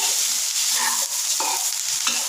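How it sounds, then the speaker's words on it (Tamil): Kolukattai pieces tossed with salt and chili in a hot pan, a dense bright sizzle running throughout with a few soft scraping stirs, close and fairly loud, no talking. "இந்த உப்பும் காரமும் நம்மளோட அந்த கொழுக்கட்டையில் இறங்குற வரைக்கும் கிண்டி இறக்குனா"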